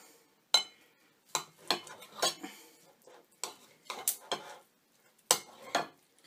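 A knife works through beef on a board, giving a series of short, crisp knocks and scrapes at an uneven pace, with clinks of metal and dishes between the cuts and no talking.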